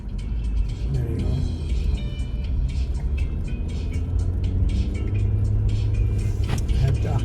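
A car drives through a snowstorm with a steady low engine rumble and road noise inside the cabin, continuous and fairly loud, with occasional faint clicks.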